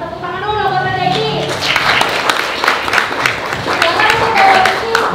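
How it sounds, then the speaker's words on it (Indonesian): An audience at an anniversary celebration breaks into a burst of clapping that swells and fades, mixed with a speaking voice before and after. "yuk kita berikan tepuk tangan dulu buat Raja ini."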